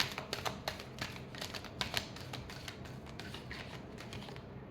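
Tarot cards being shuffled by hand, a quick crisp riffling and flicking of the deck close by, busy at first and then easing into softer rustling, with no talk over it.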